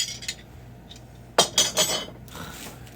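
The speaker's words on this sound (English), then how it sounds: "I really hate the clinking of metal" Metal items knock and clink together in a few sharp, bright bursts clustered near the middle, close by over a faint low hum.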